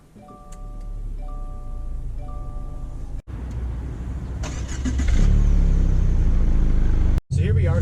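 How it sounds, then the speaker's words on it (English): A 2019 Subaru Ascent three-row SUV pulling away, a low engine hum and road rumble that swell as it gathers speed, with soft electronic chimes at the start and a brief cut partway through. "So here we are setting off in the all-new 2019 Subaru Ascent."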